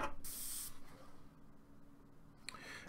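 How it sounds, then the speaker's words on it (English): An airbrush sprays paint and cleaning water through during cleanup, a bright hiss burst up front followed by quieter spray and a short final puff, fairly faint overall. "Spray the rest through, grab my paper towel, and this brush should be pretty clean."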